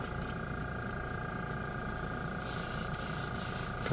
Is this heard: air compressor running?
yes